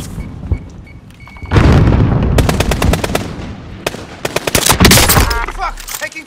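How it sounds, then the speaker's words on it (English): Video game gunfire breaks out in bursts of rapid automatic shots with heavy booms, loud and close, broken by short pauses, with a voice calling out in the game now and then. "Taking fire!"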